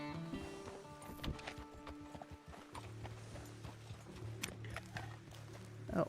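Horse hooves clip-clopping in Red Dead Online, a steady run of hoofbeats with an occasional whinny, fairly close, over a low musical drone.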